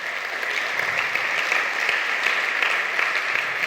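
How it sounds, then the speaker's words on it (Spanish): Church congregation applauding during a sermon, a loud, sustained wash of clapping from many hands that holds evenly throughout without any talk. "Dale un fuerte aplauso al Rey."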